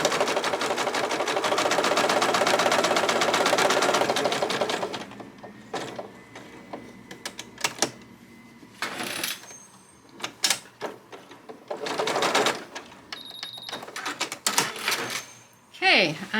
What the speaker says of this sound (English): and then I start sewing right there